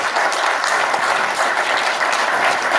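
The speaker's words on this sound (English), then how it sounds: "And I believe another special applause is in order." Loud, dense applause from a conference audience after a security talk, continuous clapping close and even throughout the short stretch.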